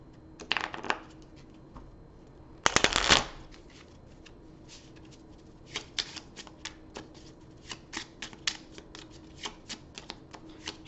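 Oddville board game cards are shuffled on a table: a couple of brisk riffles early, then a longer run of quick, crisp card flicks, close and clear with no talking.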